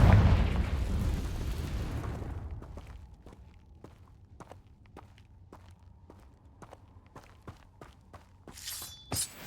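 A Confringo explosive spell blast in the Hogwarts Legacy video game, a loud booming burst that decays over a couple of seconds, followed by quiet footsteps and a sharp shattering crack near the end.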